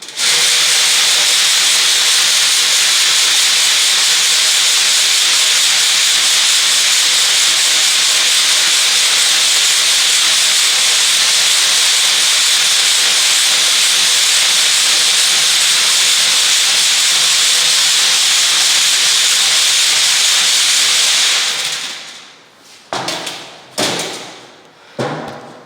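A lidded stack of sieves holding aggregate being shaken, a loud, steady rushing rattle that lasts a long while, then stops and gives way to a few dull thumps.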